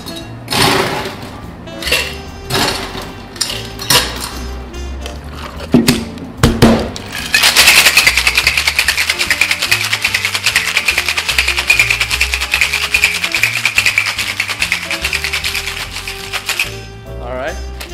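Whiskey sour-style cocktail shaken hard with ice in a shaker, a rapid, loud rattling that runs steadily for about ten seconds after a few scattered clinks, with a person speaking before the shaking.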